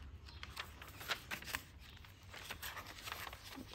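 Pages of a handmade traveler's notebook-sized paper journal flip and rustle close by, with several soft papery swishes and light crinkles spread across a quiet stretch and no talk.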